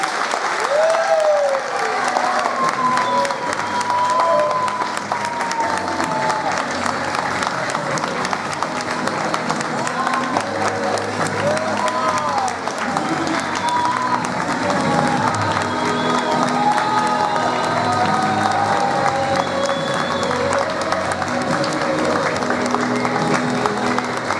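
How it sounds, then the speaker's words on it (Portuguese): A wedding crowd claps continuously and energetically for a long stretch at the end of the ceremony, with scattered cheers and voices rising above the applause. "Você pode dar uma salva de palmas ao Senhor?"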